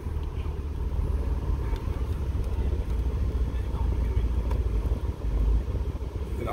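A 1995 Nissan Skyline R33 GTR pulls away in first gear near Mt. Fuji, its engine a loud, close, steady low drone that holds throughout with only slight swells.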